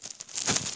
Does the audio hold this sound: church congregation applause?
no